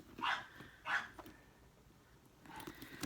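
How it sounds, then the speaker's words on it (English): A dog barks twice in quick succession, fairly close, followed after a pause by a softer whimpering yip; no one speaks. "I don't know what my dogs are barking about."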